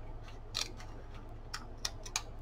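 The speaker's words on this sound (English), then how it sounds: "Normally would just slice it with my knife, but I'm going to go ahead and cut it." Scissors snipping through a paper bag for a rustic junk journal file folder: a few quiet, crisp clicks and cuts spaced irregularly over a low steady hum.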